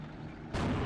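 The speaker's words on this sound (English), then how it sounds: "Critical ammo explosion there for YueJin" A tank's ammunition cooks off in a critical explosion in the WWII strategy game Steel Division: Normandy 44, a sudden loud booming burst that follows quieter battlefield rumble and stays heavy to the end.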